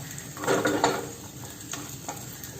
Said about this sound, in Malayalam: ഇതിപ്പം കിസ്മിസ് എല്ലാം വെറുത്ത് വരുന്നുണ്ട്.